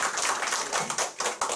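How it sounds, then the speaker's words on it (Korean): A small audience at a group meeting claps briefly, a quick burst of close, fairly light handclaps with no voices. "다시 한번 박수 부탁드립니다"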